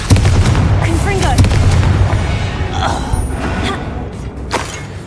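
Repeated fiery blasts of the Confringo spell in the Hogwarts Legacy video game, loud booming bursts over a dense rumbling low-end bed, several impacts in quick succession.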